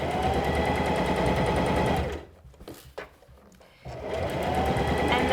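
A Singer Classic 44S sewing machine stitching a big circle, its fast steady needle rattle running loud and close, pausing for about two seconds mid-clip and then starting again.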